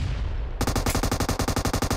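Rapid automatic gunfire in a shooter video game, starting abruptly after a short stretch of ambient noise and continuing as a loud, steady burst of evenly spaced shots.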